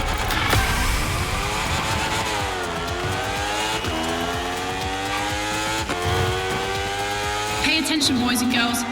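A racing motorcycle engine in The Crew Motorfest video game, during a Red Bull Speed Clash time-attack event, screams loudly and continuously at high revs, with repeated pitch drops as it shifts gears.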